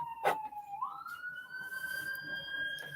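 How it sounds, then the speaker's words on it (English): A distant emergency vehicle siren wails, its pitch rising and holding, with a short burst of noise near the start and faint background rumble. "More sirens going off."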